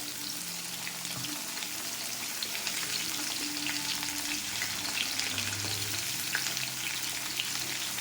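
Raw green banana, sweet potato and drumstick pieces fry together with a steady, dense sizzle in oil, stirred now and then for a Bengali shukto, close and continuous with no voices.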